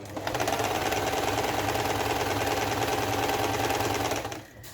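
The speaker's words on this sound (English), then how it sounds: "It does straight stitch and zigzag and a bit of fancy, but it is the most perfect sewing machine." A Burnett Seville number 4 sewing machine runs steadily at speed, a rapid even mechanical chatter that stops abruptly at the end.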